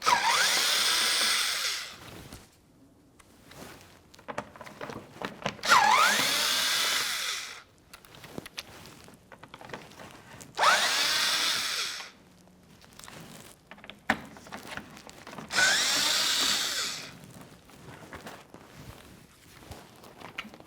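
A power drill backs out Phillips head screws on a 2012–2018 Nissan Altima while its fog light kit is replaced, with four separate high whirring bursts of several seconds each and quiet handling noises in between.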